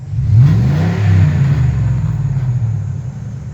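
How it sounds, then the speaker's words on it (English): A Ford F-150 pickup truck engine revs up loudly nearby, rising and falling in a deep throaty roar before settling into a rumbling idle. "And I'll rev it up too. Give it a good one."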